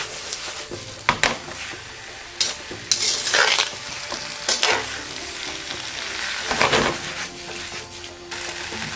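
Sukiyaki sauce bubbles and sizzles in a pan over steady heat while a utensil stirs and scrapes, with irregular metallic clinks and louder scrapes over a continuous close frying hiss.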